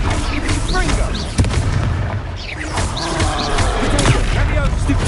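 Confringo fire spell bursts in the video game Hogwarts Legacy: several booming magical explosions and crackling impacts arrive in rapid succession amid battle noise, with voices shouting over them.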